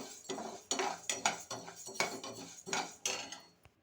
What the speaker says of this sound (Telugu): పెసరపప్పు 5 నిమిషాలు వేయించుకోవాలి.